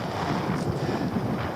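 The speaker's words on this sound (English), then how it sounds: "This is wind, wind, wind all the time." Constant wind buffets the microphone out on a boat off a windy island, a dense, steady rushing roar with no pauses and no speech.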